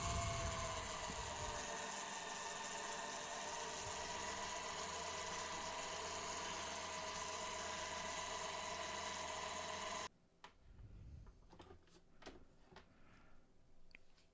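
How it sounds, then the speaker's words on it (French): An electric mixer whips cream with vanilla into chantilly, a steady mechanical whine that runs for about ten seconds and then cuts off, leaving a few faint clicks and clatters. "Et on monte le tout en chantilly."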